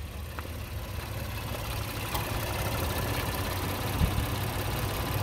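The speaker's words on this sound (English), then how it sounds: "That engine is running smooth" A 2018 Honda Pilot all-wheel-drive SUV engine idles steadily with a low, constant rumble, close by and alone, with no talking.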